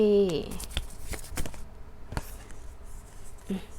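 Tarot cards are shuffled and handled in short papery flicks and a few sharp riffling snaps. They sound close and fairly quiet over a soft background hum.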